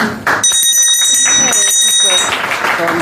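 A bright ringing bell with sustained metallic tones, rung at a Rotaract club gathering in Bodrum, heard over the chatter and murmur of a gathered crowd.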